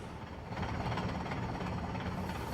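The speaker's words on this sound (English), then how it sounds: "That sounds like a very old diesel" An old diesel bus engine idles and rumbles in a city transit game, a steady, faint low drone with a slight rattle and no talking.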